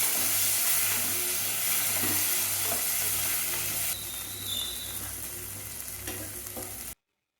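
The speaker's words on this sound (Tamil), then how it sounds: "இப்போ உருளைக்கிழங்கு வெங்காயத்தில் கொஞ்சம் போல் இஞ்சி பூண்டு நல்லா நசுக்கி அதோடு சேர்த்துக்கிட்டு அதையும் சேர்த்து வதக்கணும்." Potato, onion and crushed ginger and garlic sauté in hot oil for a Thai Amavasai offering lunch, giving a steady, close sizzle with faint stirring that runs unbroken for about seven seconds and then cuts off abruptly.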